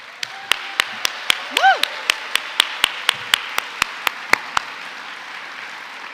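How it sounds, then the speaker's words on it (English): Audience at a university alumni awards ceremony clapping, with sharp separate claps ringing out at a steady pace over a softer bed of applause, plus a single whooping shout from the crowd. "Let's keep those applause going"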